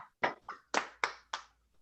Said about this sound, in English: Let's give her an incredible, well-deserved round of applause.